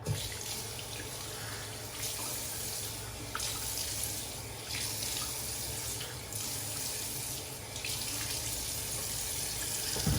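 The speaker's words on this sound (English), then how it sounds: "I'm going to wet my face and start lathering" Bathroom tap runs steadily into a sink while water is splashed on the face before shaving, a constant close rush with slight shifts in the splash and no talking.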